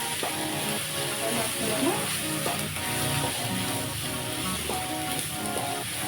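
Ridge gourd chutney ingredients (coriander, tamarind and a little jaggery) fry in oil, giving a steady, fairly loud sizzle throughout, with tonal sounds layered over the frying.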